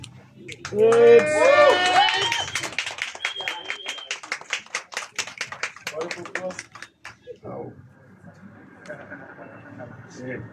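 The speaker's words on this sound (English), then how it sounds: "round of applause once again" An audience applauds at a poetry session, with sharp claps scattered through the clip beneath a voice that speaks or sings over them, thinning out toward the end.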